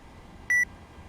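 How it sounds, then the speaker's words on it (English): A single short electronic beep, clear and fairly loud, rings out once above quiet room noise during a flight simulator session, then stops. "Now, I hear beeping"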